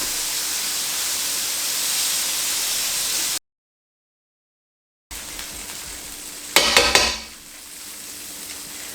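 Floured cubed steak goes into hot oil: a steady close hiss of frying runs on, breaks off briefly, then returns with a sharp crackling burst as more pieces land before settling back to an even sizzle.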